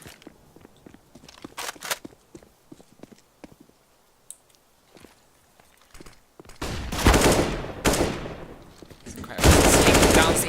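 Gunfire in a Counter-Strike match on the Nuke map: scattered close clicks and single shots, then two loud sustained bursts of automatic fire near the end.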